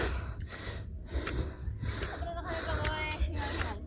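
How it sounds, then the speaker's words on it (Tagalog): Heavy, rapid panting from a hiker climbing uphill at an eco park, loud close breaths in quick repeated gasps with outdoor background noise behind. "Sobrang hingal na guys."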